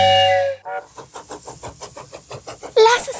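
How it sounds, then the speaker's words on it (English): A choo-choo train whistle from an animated children's song sounds as a steady tonal blast, then gives way to a quick, even chugging rhythm and ends on a brighter, noisier burst. "Choo-choo train is coming to the station."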